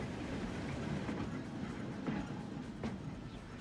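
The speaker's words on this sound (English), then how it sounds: "Wait for a passenger train to zip on past." A passenger train rolls past in the railway game Transport Fever 2, a steady broadband rumble with faint rhythmic rail clatter holding at an even level throughout, with no voices over it.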